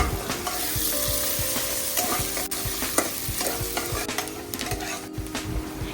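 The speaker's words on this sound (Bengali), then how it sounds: "পেঁয়াজটা দেওয়ার পর পেঁয়াজটিকে লাল লাল করে ভেজে নেব" Chopped onions fry in a pan for a coriander rohu fish dish, a steady close sizzle with repeated scraping stirs of the spoon throughout, no talking.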